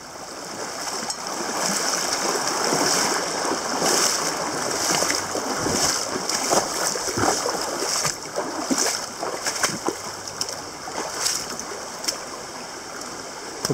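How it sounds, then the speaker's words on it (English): Steady river water rushing past a small island near old iron bridge poles, a broad continuous wash with occasional splashy bursts, fairly close and without talk. "There's the river."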